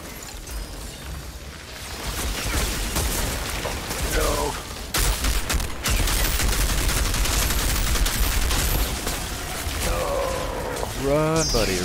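Dense, rapid gunfire bursts from the shooter game Outriders rattle almost continuously, with mechanical clatter and brief gaps, while a voice talks over the action.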